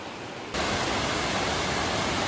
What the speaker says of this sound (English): This is Laurel Fork Falls.